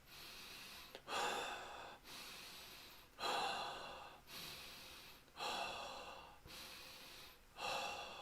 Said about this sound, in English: So breathe through your nose and then breathe out your mouth.